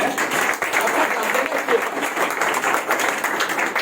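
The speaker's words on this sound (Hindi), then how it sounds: "ताली बजाएगा इसके लिए" A church congregation applauding together, a dense, steady wash of many hands clapping throughout at fairly close range.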